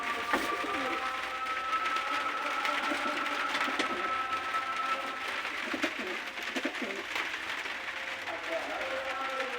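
A yellow-eyed Malwai pigeon offered for sale coos softly, with low repeated calls under someone talking.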